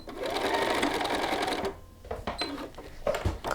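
A sewing machine stitches down a shirt cuff, running steadily and loudly for about a second and a half before stopping, followed by a few short clicks and handling noises.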